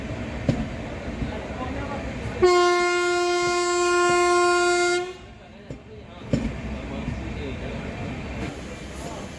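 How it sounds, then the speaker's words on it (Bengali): A Mayurakshi Express train departing Dumka station sounds a long, loud, steady horn for a few seconds, framed by the rumble and clatter of the moving train before and after. "আমাদের পরের হল্ট দুমকা থেকে এই ট্রেনটা ছেড়ে আসছে"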